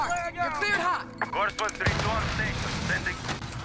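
Rapid gunfire from the ISO submachine gun in Modern Warfare, sharp bursts of shots mixed with in-game voice callouts and a player talking over the action.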